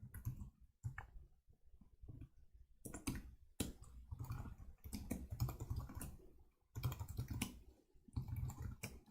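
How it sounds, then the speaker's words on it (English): Rapid clicking of keys on a slim Apple Bluetooth keyboard comes in bursts of typing with short pauses, close and fairly quiet. "Man, this keyboard ain't great."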